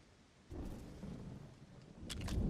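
Rumbling thunder from a lightning strike in the LEGO Fortnite video game, a low sustained roar that swells and grows louder toward the end, with a brief bright crackle near the close and no talking.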